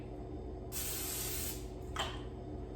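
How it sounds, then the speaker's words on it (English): A short hiss of aerosol cooking spray, a steady burst of nearly a second followed by a brief second spritz, close by. "spray it with a non-stick cooking spray"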